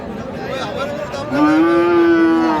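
A loud, drawn-out moo from a Friesian or crossbred bull calf at a rural cattle market, rising and holding steady for about a second over a low murmur of market background noise.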